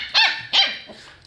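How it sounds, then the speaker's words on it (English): A playful puppy giving two loud, close, high-pitched barks in quick succession, followed by a softer growling yip as it tails off. "This puppy is so aggressive."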